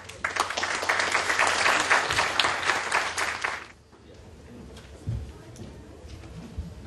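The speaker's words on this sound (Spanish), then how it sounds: "Aplausos, por favor." Loud applause from a crowd at a business congress for about four seconds, then it cuts off, leaving quiet room noise and a few soft thumps.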